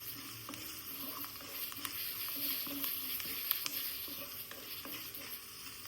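Onions and spices sauté for a kingfish (neymeen) curry, giving a faint, steady sizzle with soft stirring taps, quiet and close.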